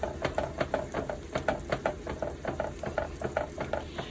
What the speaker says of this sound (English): we just add a little bit at a time. And we just whisk it in there